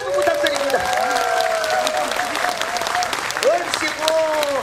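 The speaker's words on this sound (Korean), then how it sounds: "우리 남객 국악단 여러분께도 뜨거운 박수 한번 다시 한번 부탁드립니다" Audience applause for a gugak orchestra at a Korean traditional music festival with tightrope performance, sustained dense clapping from a large crowd with a few voices and cheers mixed in.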